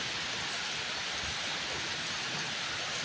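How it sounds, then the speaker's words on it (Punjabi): Steady rainfall fills the clip with a dense, even hiss, close and continuous, with no voices or other distinct sounds. "ਬਾਰਸ਼ ਪੈਣ ਦੀ ਬਾਰਸ਼ ਦਿਖਾਈਏ ਲਓ ਜੀ"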